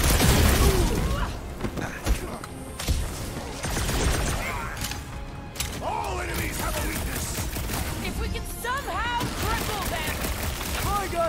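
Rapid gunfire and energy blasts crackle through a hectic combat sequence in the Guardians of the Galaxy game on PS5, dense bursts with shattering impacts and mechanical whirs, mixed under character dialogue throughout.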